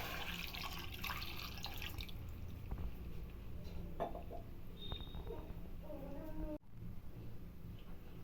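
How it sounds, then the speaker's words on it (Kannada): Water trickles and splashes faintly into a pot, with a few drips and soft clinks in a quiet room. "ಒಂದೂವರೆ ಗ್ಲಾಸಷ್ಟು ನೀರು ಹಾಕ್ತಾಯಿದ್ದೀನಿ"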